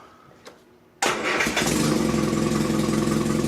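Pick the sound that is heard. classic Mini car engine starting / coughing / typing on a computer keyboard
classic Mini car engine starting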